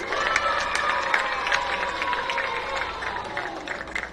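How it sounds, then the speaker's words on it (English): Crowd applause fills a high school basketball gym before a North Medford at South Medford game, a steady wash of clapping and noise with scattered sharp claps, fairly loud and continuous throughout. "can we give these guys one more round of applause?"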